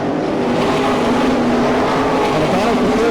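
Sprint cars racing around a dirt oval at Franklin, Pennsylvania, a steady loud drone of engines wailing throughout, with a rising and falling pitch as cars pass, and no talk.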